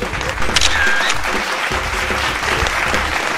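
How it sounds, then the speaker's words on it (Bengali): Loud, steady applause from an audience at a neighbourhood Durga Puja quiz contest, continuous clapping filling the whole moment with no break. "এটা জোরে হাততালি হয়ে যাক।"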